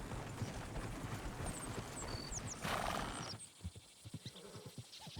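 A horse in the Red Dead Redemption 2 video game snorts and whinnies over a busy outdoor bed, then its hooves clop in a short, close, uneven run as the scene quiets.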